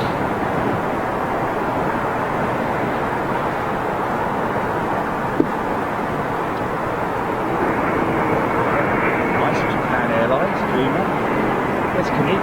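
An airliner arriving at London Heathrow Airport gives off a steady, broad engine roar that builds slightly louder toward the end, with a faint whine creeping in; people talk quietly under it.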